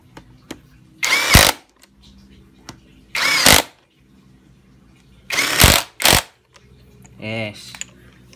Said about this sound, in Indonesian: Gunakan obeng ketrok seperti ini